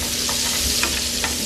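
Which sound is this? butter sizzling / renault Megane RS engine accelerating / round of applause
butter sizzling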